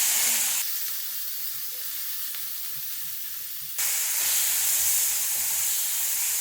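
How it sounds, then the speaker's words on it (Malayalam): Chopped onion, garlic and green chilli hit hot oil in a pan where mustard seeds have already popped. A bright, steady hiss of frying follows, dropping in loudness for a few seconds and then surging again. "ഇനി ഈ ഉള്ളിക്കൂട്ട് ഇതിലോട്ട് ചേർക്കാം"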